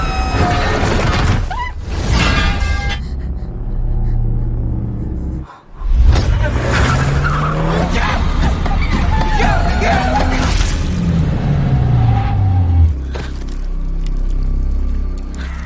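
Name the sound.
car skidding and crashing in horror film Attack 13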